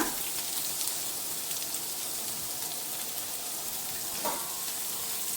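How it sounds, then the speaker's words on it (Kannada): Amla sizzles in hot oil in a pan as a steady close crackling hiss with faint pops and no talking. "ಇದು ಒಂದು 5 ರಿಂದ 6 ನಿಮಿಷ ಚೆನ್ನಾಗಿ ಹೀಗೆ ಎಣ್ಣೆಯಲ್ಲಿ ಬಾಡಕ್ಕೆ ಬಿಡೋಣ."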